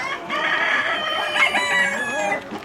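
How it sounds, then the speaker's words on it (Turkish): A rooster crows among a mixed flock of chickens, the long call rising and falling over nearby clucking, clear and close for a few seconds. "Sürüye alıştı bu horoz."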